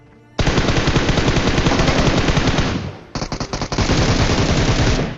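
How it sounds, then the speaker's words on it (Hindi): Automatic gunfire in PUBG Mobile during a hot drop at Pochinki: a loud, close, sustained burst of rapid shots, a short choppy pause with scattered rounds, then another long continuous burst. "ये जो फायरिंग है उस टीम को 1 सेकंड के अंदर मारने वाली है।"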